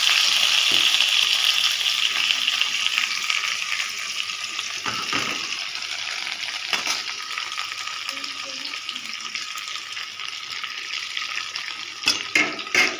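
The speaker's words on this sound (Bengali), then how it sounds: "চাল কুমড়োর পাতাগুলো বসিয়ে দিচ্ছি। সব একটা একটা করে ভেজে নেব।" Ash gourd leaves fry in a pan, giving a steady bright hiss and sizzle that stays fairly loud throughout, with a few sharp clanks toward the end.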